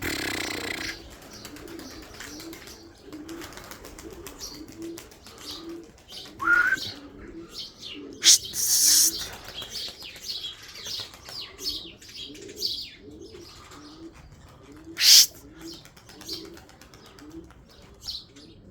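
Pigeons coo in a soft repeating rhythm throughout, with sharp bursts of wing flapping as birds take off and fly at early morning, fairly close but modest in volume.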